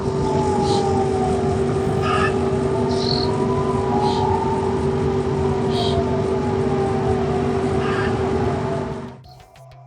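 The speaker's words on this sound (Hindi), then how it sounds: "पूरे इजराइल में युद्ध के सायरन बज रहे हैं" Air raid sirens wail across Israel, a steady sustained tone with slowly rising and falling pitch, heard at a distance over insect and bird chirps outdoors, fading out near the end.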